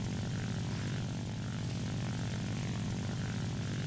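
A naval dive bomber propeller aircraft in War Thunder drones steadily, a loud continuous engine and propeller roar with a low throbbing pulse and no breaks.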